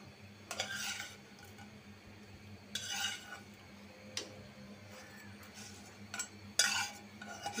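Fish pieces go into a simmering pointed gourd curry in a kadai, with a few scattered clinks and scrapes of stirring against the pan over a steady low bubbling hum.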